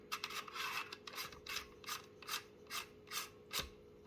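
A CO2 cartridge being screwed into a Byrna SD launcher, heard as a close series of short, evenly spaced rasping twists, roughly ten quiet scraping turns in quick rhythm.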